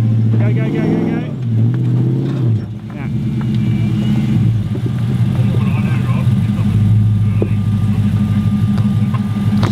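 A 4WD engine labours off-road through Toolangi State Forest, loud and close, with revs rising and falling as the vehicle creeps forward, and people talking over it.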